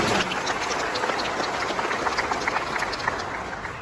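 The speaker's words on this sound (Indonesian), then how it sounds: "Tepuk tangan untuk teman-teman." A crowd at an Anies Baswedan political gathering claps steadily, a dense wash of many hands sustained throughout, with the clatter of the gathering behind it.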